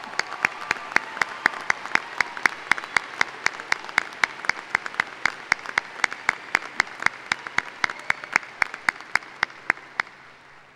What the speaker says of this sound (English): please stand and accept a round of applause